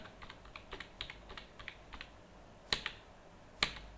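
Computer keyboard typing while contact details are entered into Tally Prime accounting software: a brisk, irregular run of close, crisp keystrokes, ending with two louder, sharper key strikes, with no voices.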